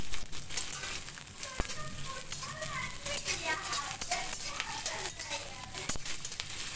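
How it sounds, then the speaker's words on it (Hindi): Onion, garlic and chilli fry in hot oil for a healthy saag dish, giving a steady close crackle and sizzle with small pops. "प्याज, लहसुन और मिर्ची को हम तेल में फ्राई कर लेते हैं।"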